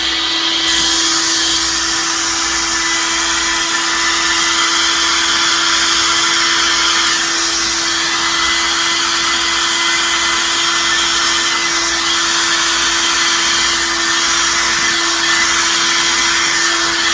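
A hair dryer blows steadily across fluid art paint treated with cell activator, a loud continuous whooshing drone that holds unbroken from start to finish with no voices.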